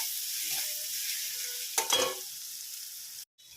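Diced potato sizzles in a pan with finely chopped onion, a steady close frying hiss broken by a couple of louder stirring scrapes near the middle and a brief dropout near the end.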